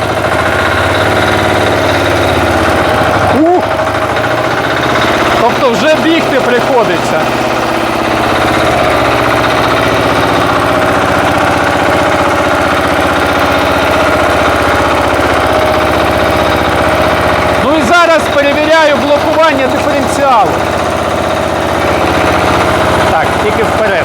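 A Motor Sich walk-behind tractor engine runs steadily in second high gear, a loud close droning hum throughout, with brief voices rising over it now and then.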